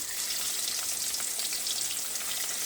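Three tilapia fish frying together in a pan over medium heat, a dense, even hiss of hot oil, steady and close with no breaks or voices.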